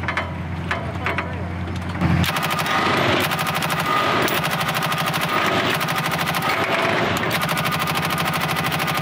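An M249 SAW machine gun fires a long, continuous burst of rapid, evenly spaced shots, very loud and close, preceded by a couple of seconds of engine-like rumble.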